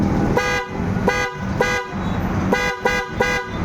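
A loud car horn blares in repeated bursts, short honks separated by brief gaps, close and harsh.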